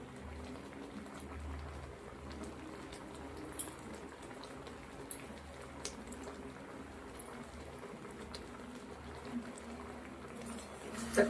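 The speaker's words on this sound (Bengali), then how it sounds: "সব কিছু দিয়ে আমটা একবার ফুটিয়ে নেবো খুব ভালো করে" Mango pickle cooking in a pot gives a soft, steady bubbling simmer, faint and continuous, with an occasional light tap of a spoon.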